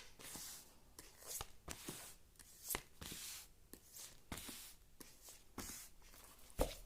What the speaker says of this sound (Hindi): थोड़ा सा और कार्ड शफल कर लेती हूँ।